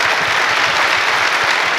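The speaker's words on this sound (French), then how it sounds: "je crois qu'on peut vous applaudir" Loud, dense applause from a masterclass audience in a hall, continuous and close throughout.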